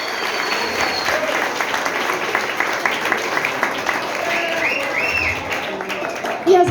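Steady applause from a crowd for boys who presented at a literary circle event, sustained throughout at moderate loudness, with a few voices mixed in.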